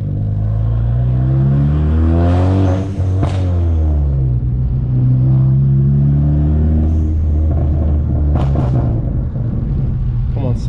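Honda Civic with a loud crackle exhaust tune accelerating hard, a sustained close rumbling roar with rising and falling engine pitch as it pulls through the gears, with brief crackling pops between shifts.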